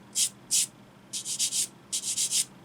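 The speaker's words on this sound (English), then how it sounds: "I'm just going to flip that around and sand this other side" Sandpaper rubbing a small plastic model kit part for an early Model T ambulance, heard close up in short rasping strokes: two single passes, then two quick runs of four rapid scrubs, in a quiet room.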